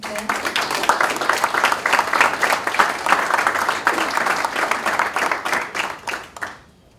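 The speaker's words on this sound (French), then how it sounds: "Je demande des applaudissements, s'il vous plaît." Audience applause at a Haitian Government Day ceremony, a dense sustained clapping crowd that holds steady for several seconds before tapering off and fading out at the end.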